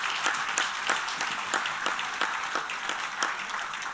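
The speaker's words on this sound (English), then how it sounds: "Please, let me have a better round of applause for these panelists." A conference audience claps for a panel of speakers at a plenary session, a steady round of applause with sharp individual claps standing out, moderately distant and without voices.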